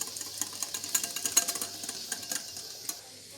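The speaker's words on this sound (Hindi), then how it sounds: "इन सारी चीज़ों को डाल के इसको हमने अच्छी तरह बीट कर लेना है।" Rapid whisking of a black pepper and salt mixture for a salad, a quick run of light clicking strokes against a bowl, close and fairly soft, with no talk.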